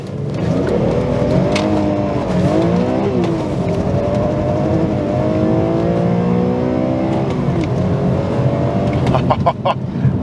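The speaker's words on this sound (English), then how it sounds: "the old straight six doesn't sound quite as exotic as the V8, but it's not a bad noise" A BMW M3 E46 inline-six engine revs continuously for about ten seconds, its pitch rising and falling through the gears, loud and close, with no talking.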